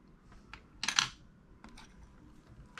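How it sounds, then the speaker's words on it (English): A soft black drawing pencil scratches handwriting onto paper in a few quick, faint strokes, with one brief louder burst of scribbling in a quiet room. "So Kimberly, I'll just write Kim 7B."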